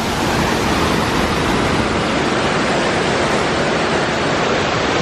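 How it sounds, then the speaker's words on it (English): Waterfall beside the Finding Nemo submarine ride at a theme park, near the monorail station: a steady, loud, broadband rush of falling water that fills the scene without a break and with no voices over it. "The waterfall here for Nemo,"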